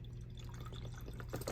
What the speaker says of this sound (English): I'm going to add 2 cups of broth to that